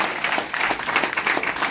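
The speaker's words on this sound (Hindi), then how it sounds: "बहुत बढ़िया, ताली हो जाए।" An audience breaks into applause, a steady wash of many hands clapping at moderate loudness that fills the whole moment.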